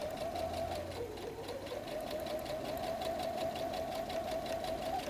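A sewing machine back-stitches on a messenger bag, a steady close mechanical whir with a rapid, even needle rhythm running continuously throughout.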